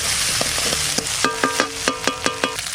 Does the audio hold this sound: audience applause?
no